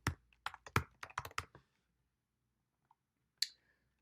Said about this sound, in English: Today, we're going to be looking in Pierce County.